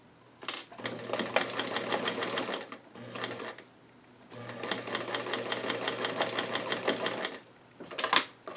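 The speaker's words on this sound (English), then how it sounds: "now I'm going to sew on the other back yoke" A sewing machine stitches the back yoke onto a pair of doll-sized five-pocket jeans, running in two long, steady bursts with short pauses between them and brief clicks at the start and end, close and alone without talk.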